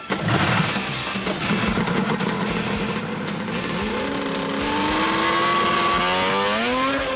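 A 180 horsepower amphibious car driven on water kept at full power: a loud, steady engine drone that rises in pitch as the revs climb, close and continuous with no talk.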